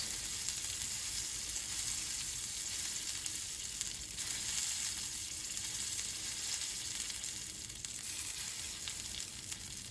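Steady, close sizzling of a Cuban sandwich grilling under a cast iron press on a hot pan, continuous and even throughout with no voices.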